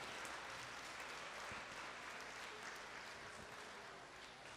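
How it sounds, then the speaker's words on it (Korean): A church congregation claps steadily through a Christmas thanksgiving service, an even, sustained round of applause heard alone at moderate distance. "박수로 한번 반겨해 주세요."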